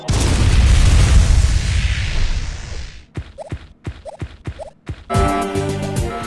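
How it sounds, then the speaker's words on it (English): Bomb explosion in the video game AM2R, a loud deep rumbling blast fading over three seconds, followed by short bright game sound effects and a burst of tonal music. "Samus, lay the bomb."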